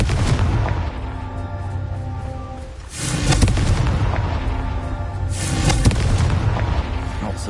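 Loud booming blasts from the Confringo fire spell in Hogwarts Legacy, two heavy explosions roughly three seconds apart, each with a sharp onset followed by a rumbling decay over game music.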